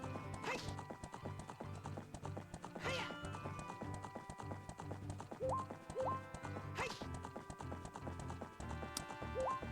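A horse in The Legend of Zelda: Ocarina of Time gallops with rhythmic, looping clip-clop hoofbeats under quiet game music, punctuated by a few short, sharp neighs.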